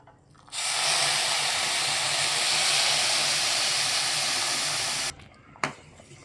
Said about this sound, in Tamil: இப்போ நம்ம கொதிக்க வச்சோம்னா அந்த தண்ணி அதில் ஊற்றிக்கலாம்